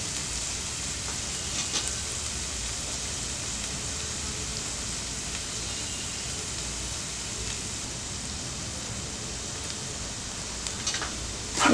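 Soya chunks (meal maker) sautéing in a pan for soya chunk poha upma, a steady close sizzle with a rain-like hiss that runs evenly throughout with no talk.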